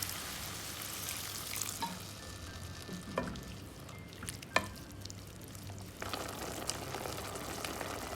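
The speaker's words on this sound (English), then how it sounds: "Now the water is boiling." Water boils with sautéed mushrooms in a pan for mushroom masala, giving a steady soft bubbling and sizzling broken by a couple of sharp utensil clinks.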